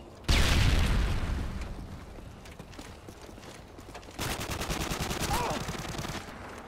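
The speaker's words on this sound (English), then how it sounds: "Tossing stun grenade." A stun grenade tossed during a video game goes off with a sudden loud burst, then a steady noisy rush, and a second crackling wave of sharp rapid pops arrives partway through.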